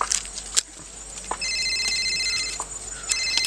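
An electronic telephone ring sounds in short bursts of steady tones inside a quiet room in a Marathi rural drama scene, with faint clicks and shuffling between rings.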